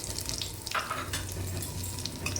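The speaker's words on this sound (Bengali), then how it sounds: "ভাজা তেলে আর একটু সরষের তেল দিয়ে দিলাম, সাদা জিরে, তেজপাতা ফোড়ন দিলাম" Cumin seeds and bay leaves sizzle in hot mustard oil as a tempering for raw jackfruit and prawn curry, a steady close frying hiss with light crackle throughout.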